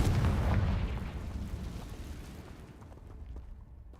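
A Confringo spell explodes in the Hogwarts Legacy video game, a heavy rumbling boom that starts loud and slowly fades out over several seconds, with no talking.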